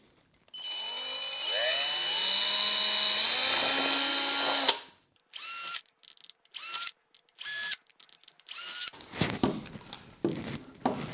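A power drill whines loudly for a few seconds while drilling holes in metal for a penny stove, then stops; several short bursts of drilling and clattering follow.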